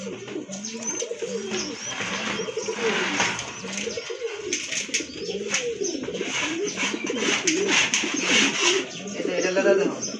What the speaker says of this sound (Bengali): প্রথমে এক জোড়া শার্টিন কবুতর দেখতে পাচ্ছেন, খুবই চমৎকার কোয়ালিটিফুল।